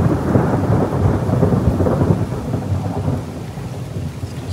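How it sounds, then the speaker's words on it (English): Steady rain pours down with a low rumble of thunder rolling underneath, loud and continuous throughout, at the start of a thunderstorm with big lightning. "It's just starting to rain."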